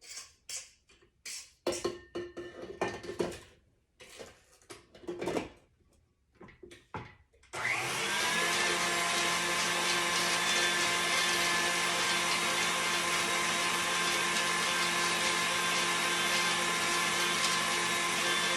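An electric mixer beating old-fashioned teacake batter starts abruptly after some scattered kitchen knocks, then runs as a loud, steady, continuous whir to the end.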